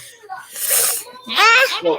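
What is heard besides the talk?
child sneezing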